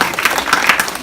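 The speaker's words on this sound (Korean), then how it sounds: "이 시간 박수 한번 쳐드릴까요?" Short burst of applause from a congregation at a church retreat sermon, many hands clapping close and loud with a quick, uneven rhythm.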